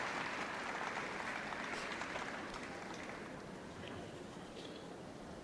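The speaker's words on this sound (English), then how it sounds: "Big round of applause" Steady crowd applause fills an arena at Crufts 2017 during the Terrier Group presentation, a dense continuous wash of clapping that fades slightly toward the end, with faint voices mixed in.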